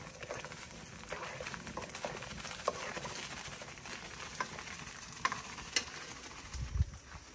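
Watermelon juice and sugar are stirred in a pot over heat, a steady close bed of bubbling, sizzling and scraping with occasional sharp clinks of the spoon against the pot, and no speech.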